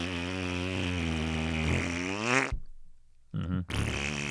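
A voice imitates a huge fart with a long, buzzing, rumbling blurt that ends in a strained rise, breaks off into silence, then sputters back in two short bursts, loud and close.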